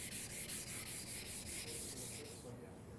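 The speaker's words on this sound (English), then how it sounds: "switch to 400 grit sandpaper on a sanding pad or any flat block to remove any circular scratches" Rhythmic back-and-forth sanding of a cast-iron table with 400-grit sandpaper on a flat pad, a harsh abrasive scrape repeating in quick even strokes, close up, then easing off near the end.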